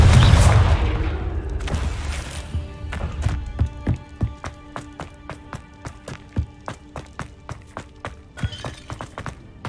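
Blasting spell explosions in Hogwarts Legacy, a loud opening burst with rumbling debris followed by a steady series of sharp magical impacts and cracks that fade in rhythm.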